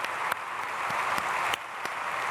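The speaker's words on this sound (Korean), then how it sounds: "박수하겠습니다" Congregation applauding during a Sunday church worship service, heard as a steady wash of clapping from many hands with a few sharper claps standing out, continuous throughout.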